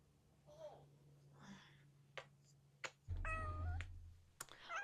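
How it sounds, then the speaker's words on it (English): A pet cat meows several times near the window, the calls rising and falling. A low hum and a few sharp knocks sit between the meows, and a soft voice is heard early on. "it's Jimmy, our cat"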